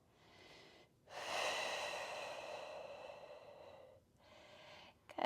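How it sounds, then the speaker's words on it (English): Slow, deep breathing during a Pilates reformer hamstring stretch, close and soft: a short inhale, then a long audible exhale, then another inhale, with quiet pauses between and no talk. "Take a few deep breaths."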